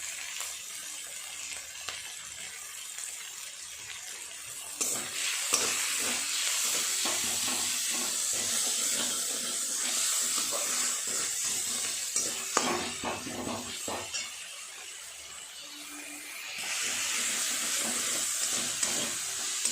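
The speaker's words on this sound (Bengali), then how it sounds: "এটা একটু নাড়াচাড়া করে ভালো করে কষিয়ে নেব" Chicken with spices, onion, chilli, ginger and garlic being stirred and fried in a pan, a continuous hissing sizzle punctuated by repeated scraping stir strokes, swelling louder in the final seconds.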